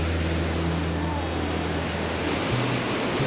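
A large waterfall in Sweden rushes with a dense, steady roar of falling water, loud and unbroken, with a low droning hum underneath.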